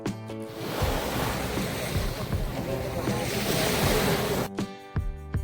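Sea waves washing onto a beach at Bakkhali, a continuous loud rushing surf that fills the scene, with wind buffeting the microphone and brief clearer moments near the end.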